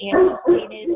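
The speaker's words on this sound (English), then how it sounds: "And I apologize for that dog barking." A dog barks and whimpers in short bursts close to a microphone during an online webinar, with a voice speaking over the barks.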